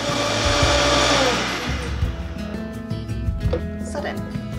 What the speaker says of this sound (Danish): Så giver vi lige en tur i blenderen.